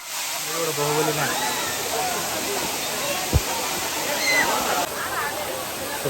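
A hidden waterfall rushes in a steady, broad roar that fills the whole scene, with voices talking briefly over it at the start.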